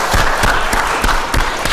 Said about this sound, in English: Quick round of applause there.